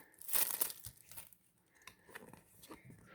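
A football trading card pack is torn open with a sharp, crinkly rip of foil wrapper near the start, followed by quieter rustling and handling sounds up close.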